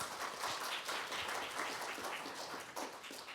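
Conference audience applauding a Gyeonggi provincial council vice-chair after a welfare policy forum talk, a steady wash of many hands clapping at moderate distance, fairly faint and even for a few seconds.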